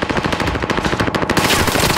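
Rapid automatic gunfire from the video game Call of Duty: Modern Warfare, a loud, steady stream of machine-gun bursts running throughout with no pauses.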